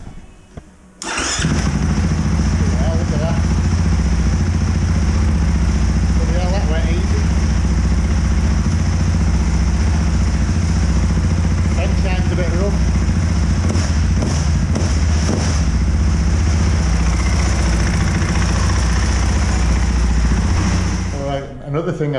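A KTM 500 EXC-F four-stroke enduro motorcycle fires up and runs on its first ride, its loud, steady engine drone holding close and continuous for about twenty seconds with throttle blips and a few mechanical thumps, no talk over it.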